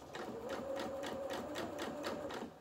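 Sewing machine stitching a few stitches forward and back on a doll's culottes, a soft, even rapid rattle with a faint steady hum, alone and unbroken.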